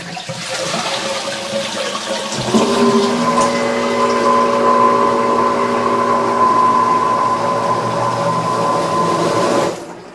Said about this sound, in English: That's a pump toilet, and the sink and the shower both go into it.